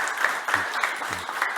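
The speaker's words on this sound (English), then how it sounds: "let's give Jon a big applause" Brief audience applause at a digital identity summit in Copenhagen: a dense patter of many clapping hands, moderately loud and continuous throughout.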